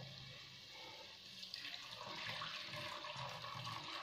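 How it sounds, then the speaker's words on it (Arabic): Hot water is poured into a tagine of chicken-breast meatballs in sauce, a steady close splashing gush that builds slightly toward the end, heard alone with no talking. "دوك نمرق بالماء سخون طبعا"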